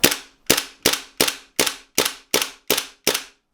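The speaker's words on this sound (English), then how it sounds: "quite a strong blowback action on this pistol" A Cybergun/WE Desert Eagle L6 airsoft gas pistol fires nine sharp blowback shots in a steady, evenly spaced rhythm, each a loud close crack with a quick metallic decay, with no one talking.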